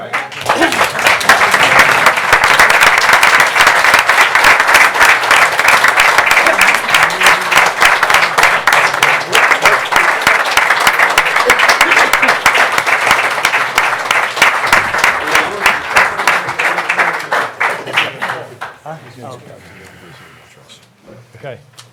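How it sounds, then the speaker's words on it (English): An audience at a township board of commissioners meeting applauds in a long, loud, dense burst of clapping that holds steady for many seconds, then thins into scattered claps and dies away near the end. "You can applaud them again, right?"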